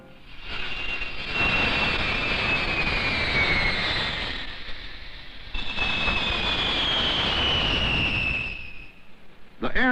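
Jet airliner engines roaring past, two long swelling passes of whining, high-pitched turbine tone over a broad rushing roar, loud and near, fading between passes.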